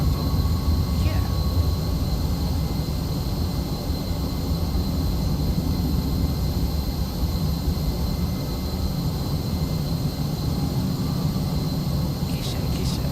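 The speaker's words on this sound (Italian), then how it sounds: "C'è un aereo che sta taxando, è appena atterrato." A jet airliner taxiing on the apron after landing at an airport gives a steady, continuous roar and whine at moderate distance, with a faint high tone running throughout.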